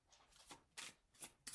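Tarot cards being shuffled, a quiet run of crisp riffling bursts, four or five short flurries close up with no talking.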